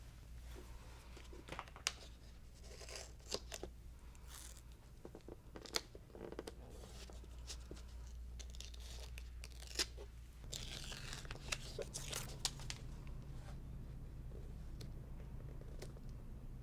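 Finishing tape being torn and pressed onto the back of a cross stitch piece, soft close tearing, crinkling and tapping sounds in small intermittent bursts over a low steady background hum.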